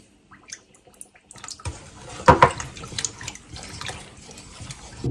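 Water is poured for homemade lemonade, a close splashing, trickling pour that starts after a quiet moment and runs unevenly to the end with small drips and splashes.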